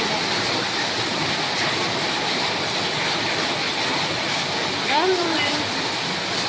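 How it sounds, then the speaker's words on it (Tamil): Heavy monsoon rain with thunder and lightning pours steadily outside an upper-floor home, a dense, even hiss that holds a constant level throughout, with a brief rising tonal call or faint voice near the end. "பாருங்க இடியோடும் மின்னோடும் மழை பெய்யுது."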